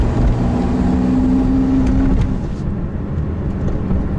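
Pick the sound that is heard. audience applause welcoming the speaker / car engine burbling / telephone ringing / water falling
car engine burbling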